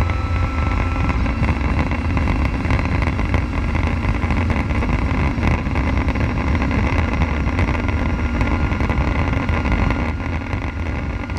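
WTCC 2017 touring car engine roars at sustained full throttle downhill on the Nordschleife, heard from onboard as a loud, steady, unbroken drone with no talk over it.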